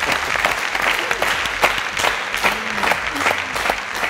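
An audience claps steadily through a studio quiz show performance, the applause dense and sustained, with a few faint voices and brief tones poking through.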